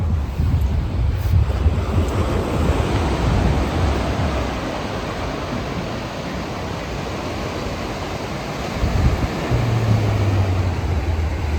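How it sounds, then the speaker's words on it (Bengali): Rough surf rolls at Mandarmani beach, a broad continuous wash of breaking waves, loud and close, with heavy wind buffeting the microphone throughout. "সমুদ্র কিন্তু এখন পুরো উত্তাল"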